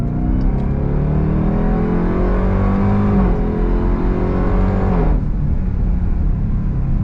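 A 2024 Dodge Durango SRT Hellcat performance SUV accelerates hard on throttle, its engine roar loud and continuous and rising in pitch through a gear before a shift near the end.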